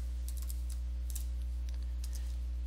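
Soft, quiet keystrokes on a computer keyboard come in short irregular bursts while code is written in Codesys structured text, set against a steady low electrical hum.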